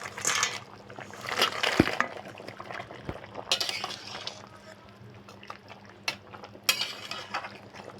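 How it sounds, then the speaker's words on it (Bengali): Fried lentil bori, eggplant and bitter gourd go into a pan for shukto, with scraping spatula strokes and a few sharp metal clinks over a soft, low sizzle, moderately close. "এবার আমি ভেজে নেওয়া বড়ি আর হচ্ছে বেগুন আর উচ্ছেটা দিয়ে দেবো"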